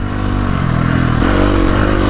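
A rebuilt 250 SX-F motocross bike idles close and loud with a fast, throbbing four-stroke beat and small blips in pitch, running alone with no voices.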